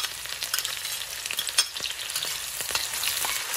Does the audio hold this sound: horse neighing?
no